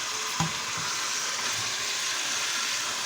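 Ground meat steaks frying in a saucepan for a meat and ham tomato sauce, a steady close hiss and sizzle with a brief clatter near the start, no talking.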